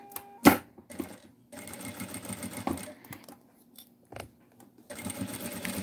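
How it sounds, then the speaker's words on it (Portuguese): Short bursts of a sewing machine stitching fabric, with a sharp clack near the start and rhythmic whirring runs separated by brief pauses. "Vou começar a costurar."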